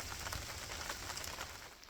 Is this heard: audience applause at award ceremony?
no